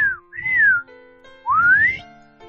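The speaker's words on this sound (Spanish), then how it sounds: "le respondió al otro silbido." Two clear whistled calls, one after the other, each a smooth tonal sweep: the first rises then falls, the second climbs steadily. Both are close and loud, with soft rustling underneath and no talk, set near a large secret tree.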